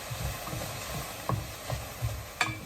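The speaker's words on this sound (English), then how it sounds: "So we're just stirring." Spatula stirring tofu and mixed vegetables in a hot frying pan during a stir fry, with soft scraping knocks about every half second over a steady sizzle, close and moderately loud.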